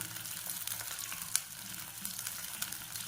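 Onions and curry leaves frying in a pan, an even, soft continuous sizzle with a faint crackle close by, alone without any talking.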